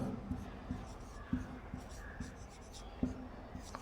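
Marker or chalk writing on a board during a maths lesson on ascending order, heard as soft irregular scratches and taps close by, with faint talk-like murmur underneath.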